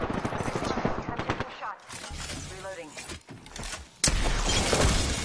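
Gunfire from an Apex Legends match on PS4: sharp bursts and a loud crack near the end, mixed with game noise while players talk over it.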